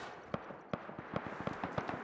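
Rapid AK rifle fire in the survival game Rust, a loose string of sharp cracking shots spaced unevenly over a couple of seconds, fairly faint and distant-sounding, no talk over it.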